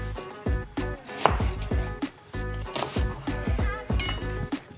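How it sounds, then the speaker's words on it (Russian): A knife chops an onion into wedges for roasting as a garnish alongside pork and vegetables, giving a brisk series of sharp close thuds on a board in an uneven rhythm, with no voice. "этот лук уже будет у нас запекаться как гарнир, поэтому мы его режем вот такими дольками."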